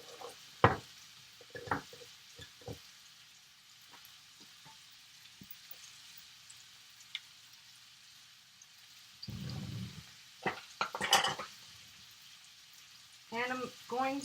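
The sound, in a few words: butter sizzling in a pan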